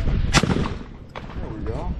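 A single Browning A5 20 gauge semi-automatic shotgun fires a target load outdoors, one loud sharp report followed by a fainter second burst, with brief voices talking around it.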